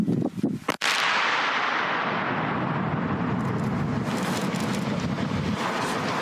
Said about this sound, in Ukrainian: Увага! Вибух! Вибух!